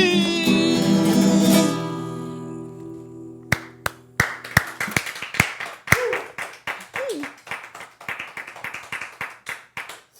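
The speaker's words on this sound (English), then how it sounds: "Thank you for that spontaneous outburst of deafening applause." A live audience bursts into applause after a song, first under a sustained sung note, then as scattered, rhythmic clapping from a modest crowd that continues steadily.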